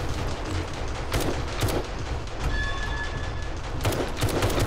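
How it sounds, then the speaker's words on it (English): Rapid gunfire crackles during a zombie horde night in 7 Days To Die, repeated sharp bursts and volleys over a constant rumbling din, no speech. "look at that gun going off"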